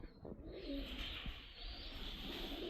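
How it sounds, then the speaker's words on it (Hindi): Strong home-bred pigeons coo in low, throaty warbles, close and repeated over a few seconds against a hissy background with no talk. "घर के बड़े मजबूत कबूतर हैं"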